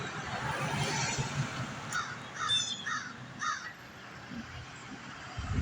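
A crow caws from somewhere overhead, several harsh calls in a loose series over steady outdoor background noise.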